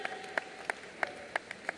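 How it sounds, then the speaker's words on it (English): A few scattered, faint claps ring out at a film festival closing ceremony, sparse and evenly spaced over a quiet background. "Ladies and gentlemen, a big round of applause."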